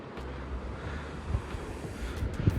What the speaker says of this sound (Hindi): नदी का शोर